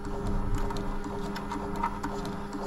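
A Kodak Reels 8mm film scanner runs with a steady mechanical whir and a rapid, regular ticking of the film advance, close and continuous with no voice over it.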